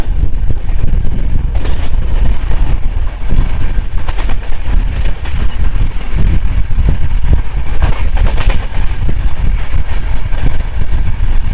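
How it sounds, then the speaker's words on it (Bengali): The 15714 Katihar Intercity Express passes alongside a moving passenger train: a loud, continuous rumble and rattle of wheels and coaches with buffeting wind, and no voices. "যেতে যেতে দেখা হয়ে গেল 157-14 কাটিহার ইন্টারসিটি এক্সপ্রেসের সাথে"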